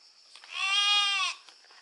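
A single sheep bleats once nearby outdoors on a road trip in Sardinia, a clear, wavering, nasal call lasting under a second with faint ambient noise around it.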